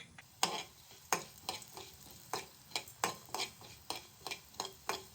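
Coriander seeds roast in a little oil in a pan for a mackerel fish curry, with a soft sizzle under repeated sharp scraping stirs of a spatula, close and fairly quiet.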